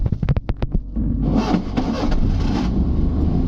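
A car engine cranks in several quick starter bursts, then catches and settles into a loud, steady idle close by, with no talk over it.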